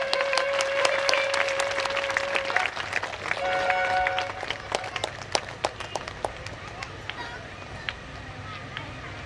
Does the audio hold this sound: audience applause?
yes